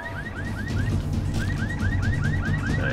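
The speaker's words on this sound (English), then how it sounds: "Sometimes we can set a car alarm off." A car alarm in a video game blares close and loud, a repeating rising electronic whoop cycling rapidly over a dull background rumble.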